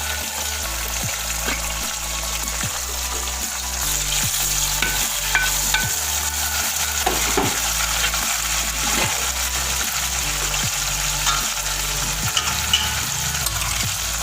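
Chopped tomatoes going into onions browning in oil in a pan for dal mash, with a steady loud sizzle and repeated scraping stirs of a spoon against the pan, close up and without talk.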